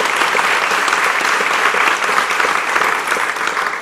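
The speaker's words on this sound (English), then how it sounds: "have a round of applause for him." A university audience gives the provost a round of applause during a State of the University address, a dense, loud, continuous clapping from a large crowd that holds steady throughout.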